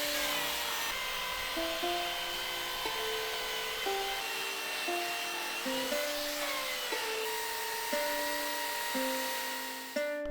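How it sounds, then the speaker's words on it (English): A random orbital sander working over wooden decking outdoors, a continuous whirring motor drone with shifting pitch as pressure and position change, steady and fairly loud throughout with no talk. "Random orbital sander."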